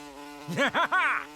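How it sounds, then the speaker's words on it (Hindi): A cartoon housefly buzzes in, its whine rising and falling in three quick looping swoops before fading, fairly close and alone. "देखो मक्खी आ रही है।"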